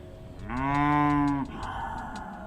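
A cow on a farm in Honduras gives one long, loud, close moo lasting about a second, rising and then cutting off, followed by quieter ambient farm noise.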